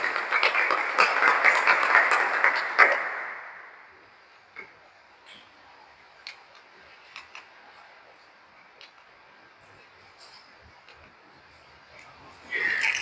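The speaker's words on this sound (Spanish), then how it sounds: "Démosle un fuerte aplauso al Señor." A church congregation at a Catholic prayer assembly applauds loudly and steadily for about three seconds. The clapping then stops abruptly, leaving a quiet hall with scattered faint ticks and creaks before a brief swell of sound at the very end.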